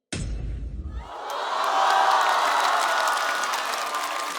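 A stand-up comedy competition audience breaks into loud applause with cheering after a brief low rumble, the clapping swelling quickly and holding dense and steady to the end.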